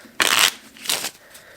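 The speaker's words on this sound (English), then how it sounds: "And we'll put the 8 back in and shuffle." A deck of playing cards riffled and shuffled in two quick crisp bursts, close up and alone.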